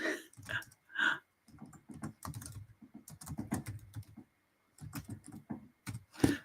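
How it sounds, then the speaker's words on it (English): Rapid, uneven typing on a computer keyboard close by, clicking bursts with brief pauses, no talking. "as you can hear, I'm typing."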